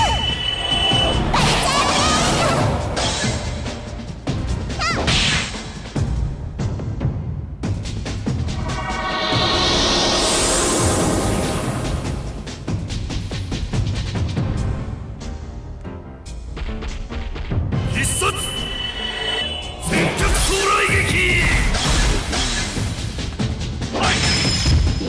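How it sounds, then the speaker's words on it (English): A defeated enemy in Legend of Legaia shatters with loud crashing, smashing impacts, followed by a rising glassy sweep and more clattering hits amid game sound effects. "I love that enemy because it sounds like he's like shattering when you beat him"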